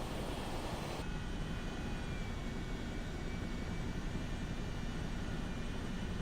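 A Chinook tandem-rotor helicopter flying in career mode in Microsoft Flight Simulator 2024, with a steady, dense engine and rotor roar that holds close and loud throughout, no talk over it.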